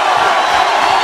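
A wrestling arena crowd roars for Goldust in a dense, loud, continuous wash of cheering that fills the whole short moment without pause.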